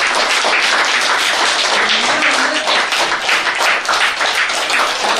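Loud, sustained applause from a large crowd of school students, dense clapping that carries steadily without a break.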